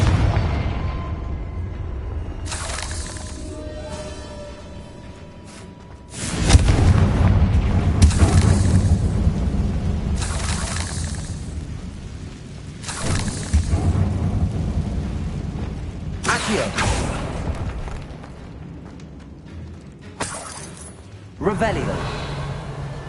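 Confringo fire spell blasts in the Hogwarts Legacy video game, several loud booming explosions at irregular intervals with rumbling low-end tails, mixed with game sounds and character speech.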